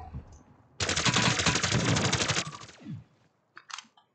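Rapid automatic gunfire in a zombie video game, one loud sustained burst of close shots lasting nearly two seconds, followed by a quieter tail and a couple of faint later clicks.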